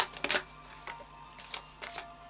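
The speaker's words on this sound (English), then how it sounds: "Now I'll just do a final shuffle of the Moonology cards" Moonology oracle cards being shuffled by hand, giving a few soft papery riffles and flicks in irregular bursts, close and quiet, with no talk.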